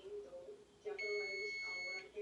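A kitchen timer beeps during the cooking of Puerto Rican rice with pigeon peas: a single sustained electronic beep of about a second, close and clear over quiet room sound and faint low background voices.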